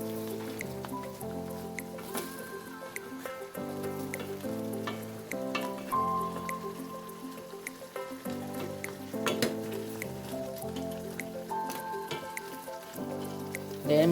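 Crab cooked in a chili sauce in a pan sizzles steadily throughout, with occasional stirring scrapes, while a melodic music track plays over it.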